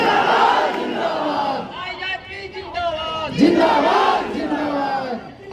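Crowd at a political rally shouts in loud bursts of massed voices that swell and fade, close and continuous throughout.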